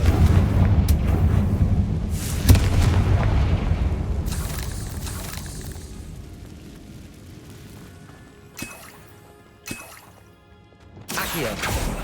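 A Confringo spell explosion in Hogwarts Legacy booms low and heavy, then rumbles and fades over several seconds, followed by a few sharp magical cracks and a renewed burst near the end.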